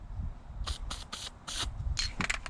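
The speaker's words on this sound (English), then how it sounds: "Okay, so you just want to lightly spray that out." An aerosol can sprays in several short hissing bursts onto a car headliner, close by, with brief pauses between them.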